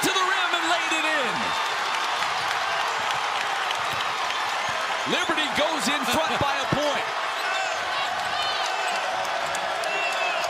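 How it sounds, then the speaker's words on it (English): A college basketball crowd at a Lipscomb versus Liberty game roars steadily with cheering and applause throughout, swelling as fans rise to their feet, while an announcer talks over the noise. "This crowd coming to its feet."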